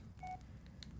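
Phone dialing tones in the Blair Witch VR game, a few short electronic beeps, one of them held longer, fairly faint over a low background hum.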